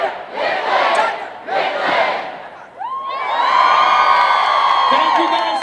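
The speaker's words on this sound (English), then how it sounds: "When I say Dunder, you say Mifflin." A convention crowd at LA Comic Con shouts back in call and response, loud and massed, with two big rhythmic group yells followed by a long sustained cheer and whooping.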